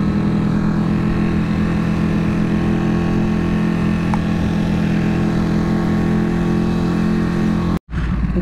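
Motorcycles idling and rumbling at a Royal Oak bike night, a steady low engine drone from several bikes nearby, continuous and loud, briefly cutting out near the end.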